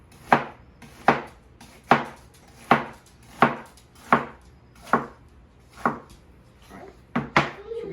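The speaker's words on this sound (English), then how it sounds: "chop up some onions" A knife chopping onions on a board, heard as about ten sharp, evenly spaced cuts, close and fairly loud, with a quicker pair of chops at the end.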